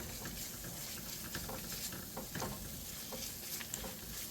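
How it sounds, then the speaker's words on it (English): Chilli sauce with anchovy frying in oil in a pan; a faint, steady sizzle with soft crackles and scraping stirring strokes, continuous and without speech. "I'm going to fry for another 2 minutes."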